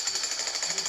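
A jackhammer in the video game Stickman Jailbreak rattles in a fast, steady pounding rhythm, loud and continuous through the short moment.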